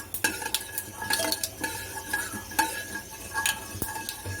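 Fenugreek seeds sizzle softly in a hot pan while a utensil stirs and scrapes against the metal in steady, repeated strokes, close up with no voices.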